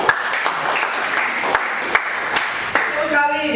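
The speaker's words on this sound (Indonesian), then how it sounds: "tepuk tangan dulu buat Timothy" A classroom of students claps for a classmate named Timothy during a geography lesson, a steady burst of dense applause with a few sharper claps and voices and chatter rising near the end.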